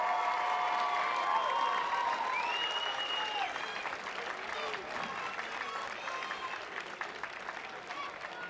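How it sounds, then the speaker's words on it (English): Crowd applause for two boxers after a ten-round flyweight title fight fills the arena in a steady, sustained wash of clapping, with a few tonal sweeps and murmurs under it. "a round of applause please for both boxers for a great fight"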